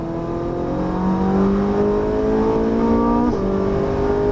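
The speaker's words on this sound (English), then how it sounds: "Now accelerate out. Full throttle, unwind the wheel." A Ferrari 458 Italia on a Las Vegas track accelerates at full throttle, its close, loud engine note climbing steadily in pitch with a quick shift near the end.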